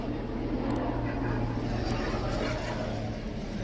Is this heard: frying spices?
no